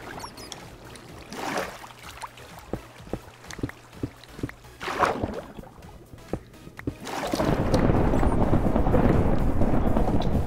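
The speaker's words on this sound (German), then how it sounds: "Es gewittert gerade draußen." A Minecraft thunderstorm outside, muffled while underground in a mine: scattered crackling and rumbling bursts, then a sustained loud roar of rain or thunder in the final seconds.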